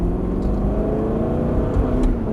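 An Aston Martin sports car engine howls under full-throttle acceleration on a race circuit, its pitch rising steadily and loud throughout, with no talking.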